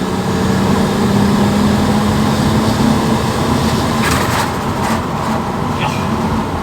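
A turbocharged VR6 engine fitted with a GT35 billet turbo clone drones loud and steady up close, a low exhaust hum rising slightly in pitch before a few sharp crackles near the end.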